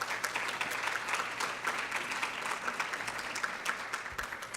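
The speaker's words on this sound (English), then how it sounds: "Please join me in giving them a round of applause for all their work." A nature play event audience gives a dense, steady round of applause, many hands clapping evenly at moderate distance with no voices over it.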